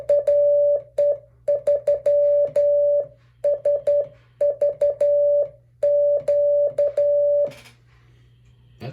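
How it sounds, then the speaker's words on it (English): Amateur radio call sign keyed in Morse code on a CW paddle key, a loud, clean steady sidetone beeping in quick dots and dashes, grouped in bursts with short gaps, over a low constant hum and faint key clicks. "that's my Morse code from that one"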